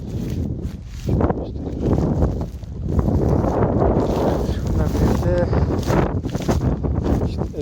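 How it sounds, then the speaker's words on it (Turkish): Gusty wind buffets the microphone in rough low rumbles outdoors among trees and fields, rising and falling, while a person speaks underneath. "Biraz bugün hafif rüzgarlı."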